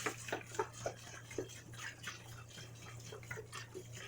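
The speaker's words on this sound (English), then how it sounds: "So I'm going to cover it with distilled water." Distilled water poured over sea moss in a bowl: irregular drips and splashes with a light liquid trickle, faint and close, over a steady low hum.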